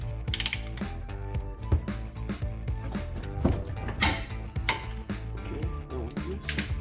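Large wrench working a 17mm brake caliper bracket bolt on a Nissan Versa, a run of quick metallic ratcheting clicks with sharp clanks, close and alone.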